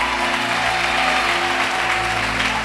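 A church congregation applauds loudly to acclaim Jesus, with sustained, dense clapping from many hands and a faint background hum running beneath it.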